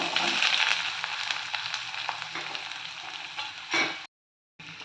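Onions sizzle steadily in hot oil with mustard seeds and urad dal, a continuous close frying hiss with occasional stirring scrapes, cutting off briefly near the end.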